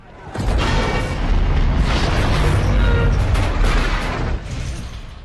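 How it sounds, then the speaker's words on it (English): Loud, sustained explosion special effects from the Hollywood film Pearl Harbor, depicting the attack, erupt suddenly into a dense roaring blast that rumbles for several seconds before tapering slightly. "The most devastating moment of the attack was dramatized using special effects in the Hollywood film Pearl Harbor."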